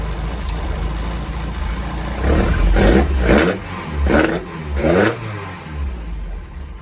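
A C20XE engine fitted in a Mini runs at a steady idle, then revs up in four or five strong rising blips around the middle before settling back, loud and close throughout with no talking.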